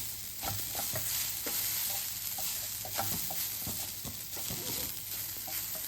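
Food being stirred gently in a frying pan, with soft scraping and clinking strokes over a steady low sizzle, close and fairly quiet, no talking.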